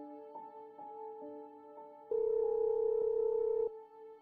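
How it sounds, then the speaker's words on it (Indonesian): An animated phone call's outgoing ringing tone sounds as several short electronic beeps, then one sustained louder tone, clear and alone. "Tia, ada apa telepon pagi-pagi gini?"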